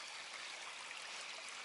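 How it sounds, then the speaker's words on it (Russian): A small stream flows under a wooden bridge in a mountain village, a quiet continuous gurgle and rush of water with no voices. "Очень такой приятный звук журчащей воды."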